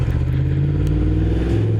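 Engine of a 2024 Yamaha R1 superbike, close and loud, a steady hard-edged drone with a pitch shift near the end as the throttle changes, no talking over it.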